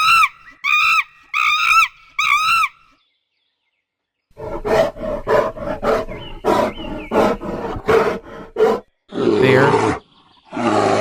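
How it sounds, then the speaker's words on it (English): Loud, harsh animal roars from a wild bear, with several rhythmic bursts at the start, a short silent gap, then a long run of throaty pulsing roars and growls close to the listener with no talk over them. "Bear."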